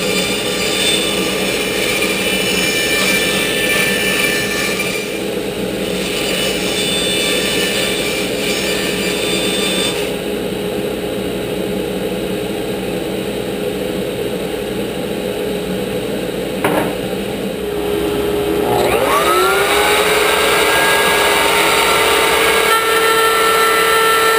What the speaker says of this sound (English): take it over to the bandsaw and roughly cut it to shape, and then I will use the router to finish it up